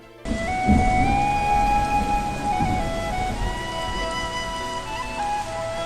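Steady rain falls with a dense hiss under a sustained music track in an old used car advertisement, loud and continuous after a brief quiet start.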